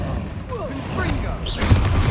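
Confringo explosive spell blast in Hogwarts Legacy, a muffled boom within busy combat noise, with a louder thump near the end, brief and close.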